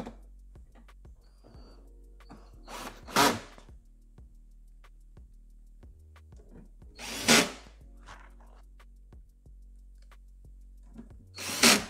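A power drill drives screws back into a Bosch dishwasher door after an E15 error repair, three short loud whirring bursts spaced several seconds apart with quiet handling noises between.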